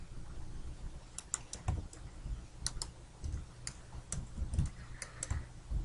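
Computer keyboard keys and mouse clicks during 3D modeling, irregular close clicks and taps in small clusters with short pauses, crisp and moderately loud over a low steady background hum, no voices.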